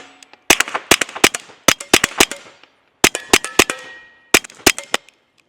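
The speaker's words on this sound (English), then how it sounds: "Let's go ahead and see how she shoots suppressed second round" A suppressed Smith & Wesson M&P 22X pistol fires Winchester rounds in quick strings of sharp, muffled pops, each followed by a metallic ring, several shots per burst with brief pauses between.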